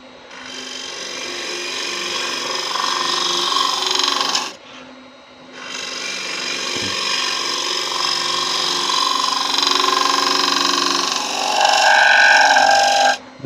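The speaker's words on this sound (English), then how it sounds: "Now I just want to negative rake scrape that a little bit." A negative rake scraper scraping spinning holly wood on a lathe gives a loud, steady rasping hiss that breaks off briefly for a moment, then resumes with a harsher edge toward the end.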